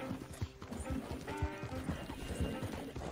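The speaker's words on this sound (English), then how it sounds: "This fucking horse sounds like a beast." A horse in Red Dead Redemption 2 gallops with rapid, rhythmic hoofbeats close up, and a neigh cuts in over the steady pounding.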